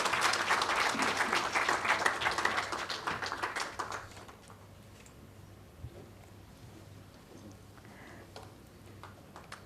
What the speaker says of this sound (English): Can we have a louder applause, ladies and gentlemen?